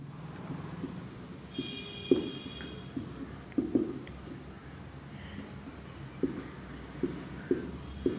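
A pen writes notes during a zoology lesson, with scattered scratchy strokes and taps against a low background hum, fairly faint and intermittent.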